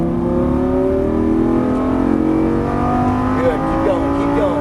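A Lamborghini Gallardo LP550 accelerates hard on a track, its engine note climbing loud and steady from the cockpit while an instructor's voice talks over it.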